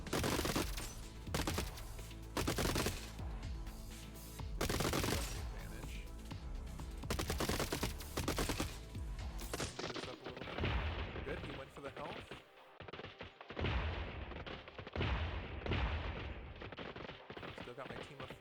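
Dense, continuous volleys of gunfire from robots battling in the video game Gladiabots, rapid overlapping shots filling the whole stretch, with someone talking faintly underneath.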